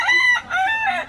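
A rooster crows loudly and close, two drawn-out calls with a short break between them, no other sounds around.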